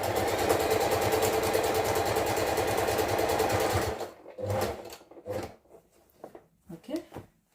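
A sewing machine stitches fabric in a fast, steady mechanical whir for about four seconds, then stops abruptly. A person talks in short bursts afterward.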